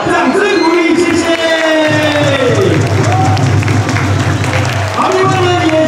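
A stadium crowd at a Chinese Professional Baseball League all-star game applauds and cheers the Chinese Taipei and all-star players from the third-base stands. Sustained loud clapping and crowd noise run under a continuous, amplified announcer's voice.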